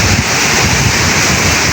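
Strong typhoon wind roaring against the microphone over crashing sea waves, a constant loud rush at the shore where fishing boats are hauled up, no voices.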